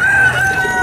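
A rooster crows loudly and close by at a bird market, a single sustained call filling the whole moment with no other sounds.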